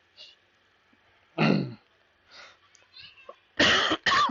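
Several harsh, close coughs and throat-clearing bursts from someone recovering from COVID, spaced irregularly, ending with two loud coughs in quick succession.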